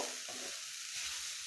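Grated coconut fries and is stirred in a pan for Bihu pitha, giving a steady close sizzle with brief scraping strokes of the spoon.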